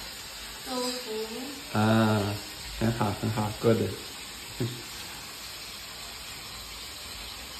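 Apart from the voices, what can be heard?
tofu frying in a pan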